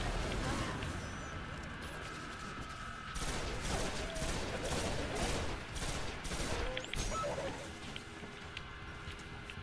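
Enemy gunfire in the Destiny video game, a steady fusillade of rapid shots with crashing impacts that continues throughout, loud and close under game sound effects.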